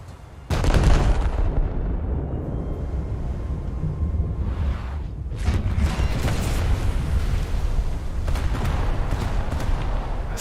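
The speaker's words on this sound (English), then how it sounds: "I think I just detonated some of his torpedoes by the looks of it" Torpedoes detonate against a ship in a naval battle game, a sudden deep boom followed by sustained rumbling explosions and crashing bursts over roaring water, loud and close.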